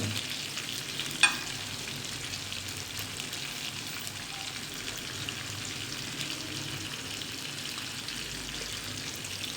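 Pieces of fish frying in a pan for fish curry give off a steady, even sizzle with a soft bubbling hiss and one small clink near the start, and no talking.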